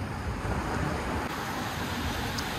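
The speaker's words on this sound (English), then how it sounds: "The soothing sound of this water flowing" Water rushes near the Col du Lautaret in the Alps, a steady broadband roar close by with wind mixed in, no voices.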